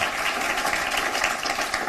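An audience at a Hindi poetry gathering applauds to welcome a woman poet to the stage, a steady dense clapping that fills the space evenly throughout without a break.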